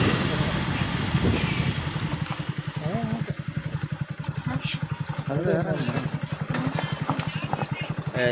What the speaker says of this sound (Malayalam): ഈ ബൈക്കിന് ആണ് യാത്ര ചെയ്തുകൊണ്ടിരിക്കുന്നത്